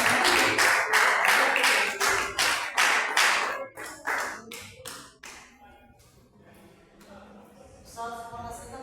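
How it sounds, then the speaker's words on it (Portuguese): A church congregation claps joyfully in a steady, fast rhythm, loud and close, before the claps thin out and become sparse, with a tonal voice or instrument entering near the end. "Vamos receber a seta do Senhor com as palmas bem alegres."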